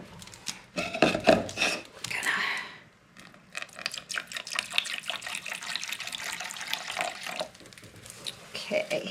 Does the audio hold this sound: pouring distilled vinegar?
yes